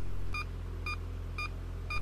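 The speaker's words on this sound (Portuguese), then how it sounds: "informa por meio da variação da frequência e do tom de um bip característico a distância" Four evenly spaced parking sensor beeps sound about half a second apart over a low, steady engine hum inside a Chevrolet Omega 3.8 V6.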